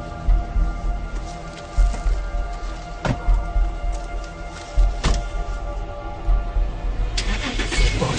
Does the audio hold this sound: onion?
no